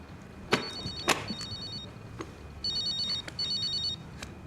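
An electronic telephone rings in repeated warbling trilled bursts, separated by pauses, with a few sharp knocks and clatters near the start; moderately quiet indoor setting, no talking.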